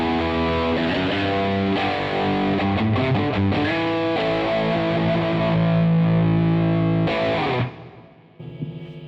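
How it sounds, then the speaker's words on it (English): Electric guitar played with heavy distortion through a BluGuitar Amp1 Mercury Edition amp, loud chords and riffs ringing continuously before cutting off abruptly near the end, with no voices. "It feels like playing through a real amp."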